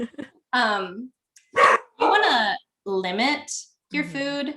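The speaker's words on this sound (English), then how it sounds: "sorry guys, that's my dog." A pet dog barks repeatedly and close by in a home podcast setting, five or six sharp barks in quick succession with short gaps, while someone speaks briefly at the start.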